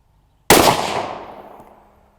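A single sharp, loud rifle shot from a Ruger American Ranch 5.56 NATO 16-inch rifle firing PPU 55 grain full metal jacket .223 Remington ammunition, with a long decaying echo trailing off over about a second and a half.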